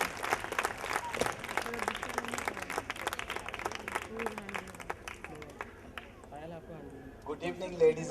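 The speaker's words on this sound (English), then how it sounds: "a huge round of applause for him" Applause from an audience greeting a man called up onto the stage at a school event, a steady patter of clapping with crowd noise that fades out toward the end.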